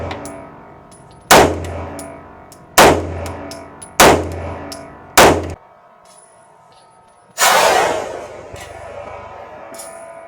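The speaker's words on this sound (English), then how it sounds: "y'all look at the way the gun is shooting" Kimber 2K11 Comp pistol fires five loud, sharp rounds at roughly even one-to-one-and-a-half second intervals, the last shot followed by a longer ringing decay.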